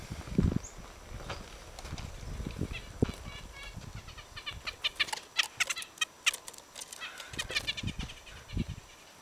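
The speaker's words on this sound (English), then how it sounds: "What we have here is nuthatches and chickadees" Small woodland birds, nuthatches and chickadees, give scattered short high chirps and calls at moderate distance, over faint rustling and a few low thumps outdoors.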